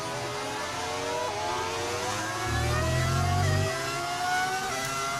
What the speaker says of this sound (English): The engine mod, which is what you're hearing